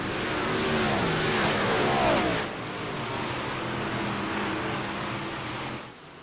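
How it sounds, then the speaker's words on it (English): Race cars circle a dirt oval track, their engines roaring in a dense, steady drone with a passing car's pitch sweeping and then fading slightly, heard from a distance at moderate loudness. "As Darren's making the pass on Jimmy Gustin there for third."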